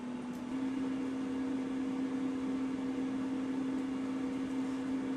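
A steady electric hum with a whooshing fan runs without a break, a constant low drone of an air fryer cooking french fries close by.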